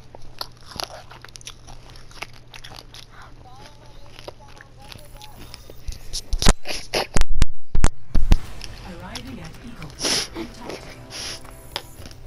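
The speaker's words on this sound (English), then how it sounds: "I'm eating cereal." Special K cereal crunched in the mouth up close, with loud, rapid crisp bites and chewing bursts that peak midway. A quieter background of rustling and voices runs throughout.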